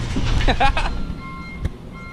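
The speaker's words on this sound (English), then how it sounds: "I hope you guys can hear me through all this crazy beeping and shit from that JDM trash truck" A Japanese-market trash truck reverses with repeated electronic beeps over a low diesel rumble, loud and close, while someone talks over it.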